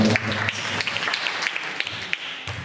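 A church congregation at a prayer gathering claps together in a steady, moderate round of applause, with many hands beating at once and no speech over it.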